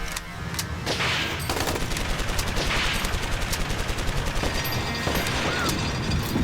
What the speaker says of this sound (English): we shoot them with machine guns